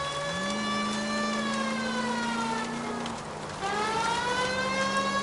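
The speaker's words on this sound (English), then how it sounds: "Actually, maybe I should turn off my siren" A police car siren wails steadily in a video game, its tone sliding down briefly near the middle before rising again, loud and continuous with no other sounds over it.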